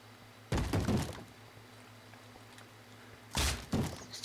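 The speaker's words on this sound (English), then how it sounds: "Oh no, he's breaking the doors." Two bursts of heavy thudding and cracking come from a mob breaking down a door in the Minecraft video game, each a cluster of quick blows with quiet gaps between.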